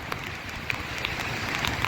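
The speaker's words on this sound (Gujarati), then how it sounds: "મોઢા ઉપર તડતડાટી બોલાવે એવા વરસાદના છાંટા" Heavy rain pours through the jungle on Girnar, a steady dense hiss of drops striking leaves and ground with a few sharper splats close by, loud and continuous with no voices.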